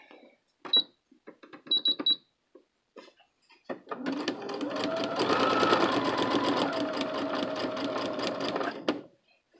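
Sewing machine running a straight stitch with a presser foot, a steady mechanical whir lasting several seconds, preceded by a few short clicks and brief bursts.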